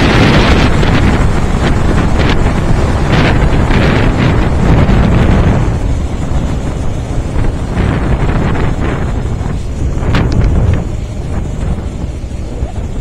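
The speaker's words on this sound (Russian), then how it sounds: "Ветерок сильный, да, ну а что делать?" Strong wind roars over the microphone while riding a Regulmoto Alien Monster 300 motorcycle, loud continuous buffeting with rushing gusts that ease slightly toward the end, no talk.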